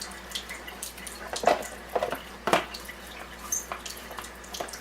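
Water runs steadily through a machine as it is flushed during cleaning, a faint continuous trickle at close range with a few brief splashy bursts.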